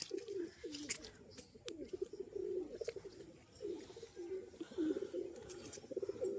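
A female pigeon coos repeatedly in soft, throaty bursts, fairly close, with faint chirps and rustling now and then in the background.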